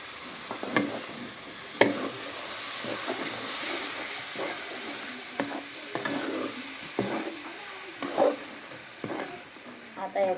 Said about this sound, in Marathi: तळल्याच्या नंतर चांगलं त्याला पण परतून घ्यायचं मसाला चांगला मसाला मिक्स करून